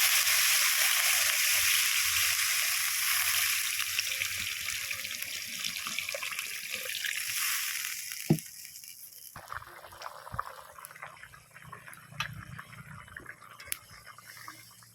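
Water pours into frying fish masala in a pan, making a steady rushing hiss for several seconds that cuts off into quieter sizzling and scattered clinks of a spatula against the pan.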